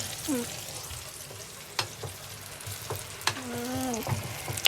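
Food is stirred in a frying pan, a low steady sizzle broken by sharp taps and scrapes of the utensil against the pan, with faint voices in the background.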